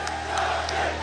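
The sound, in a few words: crowd cheering wildly at Tekken 7 tournament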